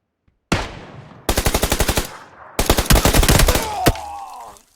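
Close, loud automatic gunfire in PUBG Lite, coming as three rapid bursts of sharp evenly spaced shots separated by short gaps and followed by a fading ringing tail.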